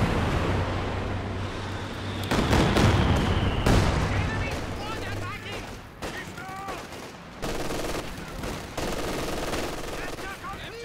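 Katyusha rocket artillery fires in a World War II strategy game, a dense volley of blasts and launch whooshes amid machine-gun fire, with a commentator talking over the battle.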